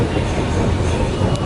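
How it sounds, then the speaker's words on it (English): A train rumbles and clatters at a station in Shanghai, a steady loud low roar of wheels and carriage noise filling the whole moment, with no clear voices. "Now we're at the train station to go back home, so we'll be catching another train, a bullet train."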